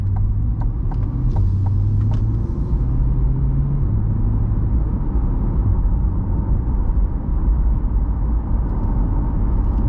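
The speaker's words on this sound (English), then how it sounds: "let's just focus on cabin noise for a moment." Steady low road rumble and engine drone fill the cabin of a 2020 Chevrolet Corvette C8 3LT Z51 while driving, with faint wind noise and no talking.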